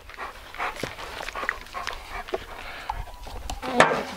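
Dogs on a goat farm bark and pant nearby, with short irregular barks, whimpers and heavy breathing mixed with shuffling movement.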